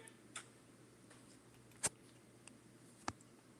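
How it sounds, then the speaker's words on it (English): A few faint, sharp clicks are spaced irregularly over a quiet room hiss, like sparse key presses at a computer. "I hear you clicking, Quentin."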